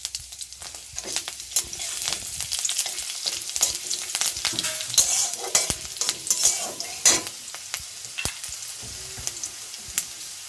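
Cumin seeds and chopped green chilli fry in a pan, a steady hiss broken by frequent sharp crackles and pops, with scraping stirring strokes throughout, close and fairly loud without any voices.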